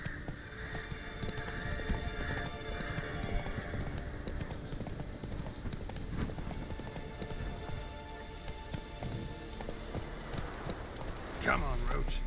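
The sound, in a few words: horse Roach galloping in video game The Witcher 3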